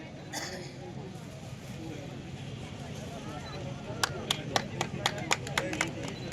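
At an outdoor cricket tournament prize distribution in Daharnangi, West Bengal, a steady background hum gives way to a short burst of scattered handclaps from a small crowd.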